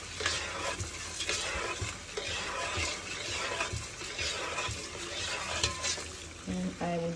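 A spoon stirs a pot of Ghanaian bean stew after water and salt go in, a close, continuous swishing and scraping with a faint sizzle underneath.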